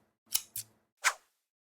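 Scissors cutting felt fabric, three crisp snips close by, two in quick succession and a third after a short pause, in an otherwise quiet room.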